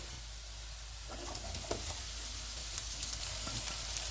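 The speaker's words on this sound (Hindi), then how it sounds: "इनको भी 2 मिनट तक भूनेंगे।" Capsicum and cabbage frying over full heat in a pan for fried rice, a steady close sizzle with scattered sharp crackles and a few stirring scrapes, no voices.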